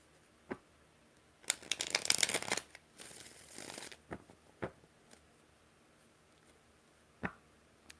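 Tarot cards being shuffled close up, a quick riffle burst followed by softer shuffling and a few scattered taps and flicks, with no talking.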